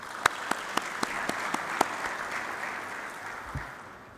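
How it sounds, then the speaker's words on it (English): A seminar audience applauds: a few distinct claps ring out first, then the clapping blends into a soft, even patter that fades away. "Can we give him a warm applause, please?"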